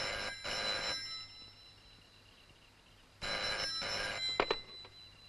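An old telephone rings in a Malayalam comedy film scene: two loud electric bell bursts separated by a quiet gap, with a faint click near the end.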